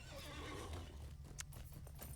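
Horse hooves clip-clop at a walk in the Lord of the Rings Online video game, faint and steady under a constant low game hum.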